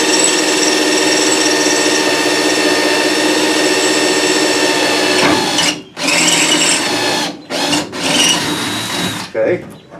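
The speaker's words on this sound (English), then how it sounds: "let's go right here and drill a hole." A steady high mechanical whine of a power drill drilling a hole in a second-generation Camaro, running continuously, then cutting out and restarting in short bursts near the end.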